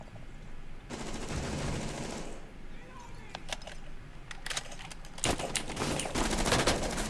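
Gunfire crackles through a Rainbow Six Siege pro league match, bursts of automatic shots and scattered single cracks over a steady background wash, with commentators talking throughout.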